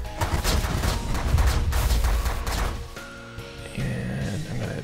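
Rapid gunfire rattles from a combat video game in a continuous, loud volley of shots for about three seconds, then gives way to quieter game sounds.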